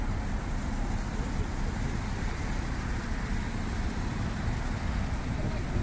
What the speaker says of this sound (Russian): Вот автобус идет 24-й, Абранес и Ела.